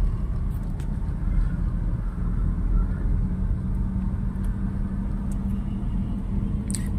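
Car driving along at low speed during a driving lesson, a steady low engine and road rumble throughout with no clear surge, heard from inside the cabin.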